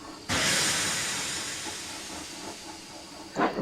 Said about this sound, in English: That sounds like a steam engine